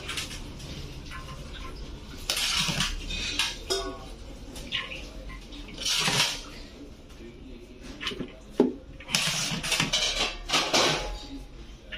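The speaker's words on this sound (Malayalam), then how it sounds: "ചോറിടുവാണ്." Cooked rice being served onto a plate for a birthday meal, heard as soft scattered clinks and scrapes of a serving spoon against dishware over steady background noise, with bird chirps in the distance.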